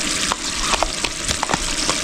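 Curd is stirred into a sizzling pot of Sri Lankan dum biryani cooked village-style, the close, loud frying hiss broken by quick scraping and clicking strokes of the stirring spoon.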